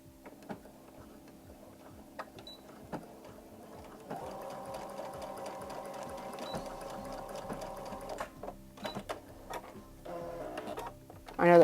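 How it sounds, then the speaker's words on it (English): Sewing machine stitching around the fabric of a small pocket bunny, a steady close mechanical clatter that runs in short starts and stops, with a denser stretch of continuous stitching in the middle. "We're just going to sew around."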